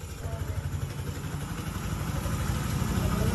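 A motorcycle with a bolt-on build and stock exhaust pipe runs at a steady idle, a close, continuous low rumbling throb that stays fairly even throughout, with no talk over it.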